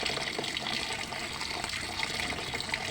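Water pours steadily into a bowl of salted bitter gourd (ampalaya) to soak it, a continuous close splashing gush with no talk.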